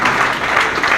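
An audience at a Kashmiri American Alliance New Year celebration and opening ceremony claps in a dense, steady burst of applause, close and continuous for a brief moment.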